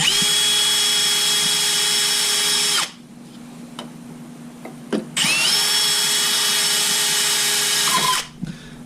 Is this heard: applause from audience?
no